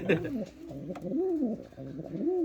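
Pigeons in a coop cooing nearby, with repeated low, rolling coos at a slow, regular rhythm and a few faint rustles between them.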